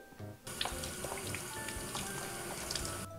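Tap water runs steadily into a kitchen sink while a leek is rinsed under the stream, close and continuous with faint splashing changes throughout.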